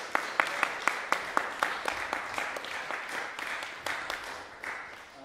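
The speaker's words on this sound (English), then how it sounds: "Huge round of applause for them" Audience applause at a tuba recital: a small crowd claps in distinct, fairly sparse strokes that stay steady at moderate volume throughout, with no talking.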